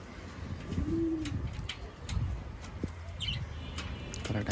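Pigeons in a rooftop loft, holding eggs and young chicks, coo softly and repeatedly close by over steady background noise, with occasional faint chirps.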